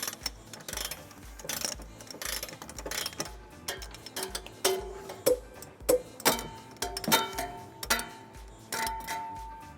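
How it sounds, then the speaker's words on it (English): Ratchet with a 19mm socket tightening trailer hitch bolts on a 2012 GMC Terrain, close repeated clicking strokes in bursts that grow louder and more pronounced, with no talk. "we're ready to tighten and torque all of them to the manufacturer's specification. We'll be using a 19mm socket for all of our bolts."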